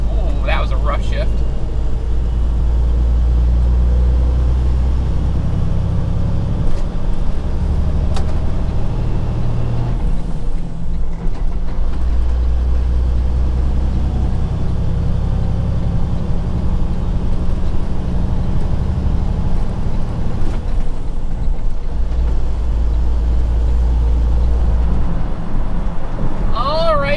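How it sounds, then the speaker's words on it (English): Heavy road traffic on the approach to Chicago, heard from inside a moving vehicle as a loud, constant low drone and road roar with a few passing swells. "we are approaching Chicago, which means the traffic has like quintupled in the last half hour"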